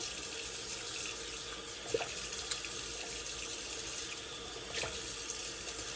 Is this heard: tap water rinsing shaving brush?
yes